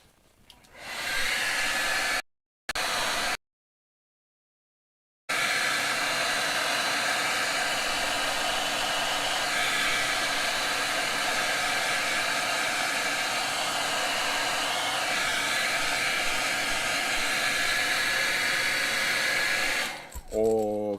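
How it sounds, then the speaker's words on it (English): A hair dryer blows with a loud, steady whoosh, cut off briefly near the start, then running continuously before switching off at the end. "I'm going to do this with the hairdryer."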